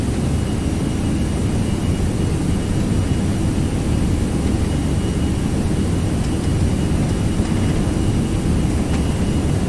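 Airbus jet engines roar steadily at takeoff thrust during an Air France Vienna-to-Paris departure in a flight simulator, a loud, constant broadband rumble and whine with no voices over it.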